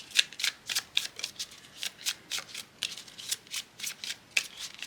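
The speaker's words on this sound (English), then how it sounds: "Let's get some of these Gypsy Oracle cards" Gypsy Oracle tarot cards being shuffled by hand, a quick regular series of crisp riffling snaps, about two per second, close and clear with no talk.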